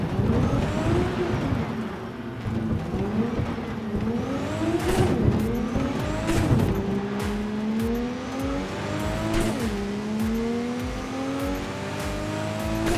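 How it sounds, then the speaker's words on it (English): The engine of a weaponized racing car in Cyberpunk 2077 revs up repeatedly through rising gear sweeps, loud and close, with the pitch dropping at each shift and occasional sharp tire squeals. "This one sounds more like some kind of a racing car."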